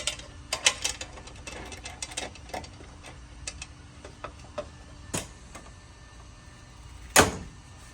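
Bolts being tightened on lower doors fitted to a Honda Talon side-by-side, heard as a run of close, sharp ratcheting clicks in quick bursts with pauses, ending in one louder clack.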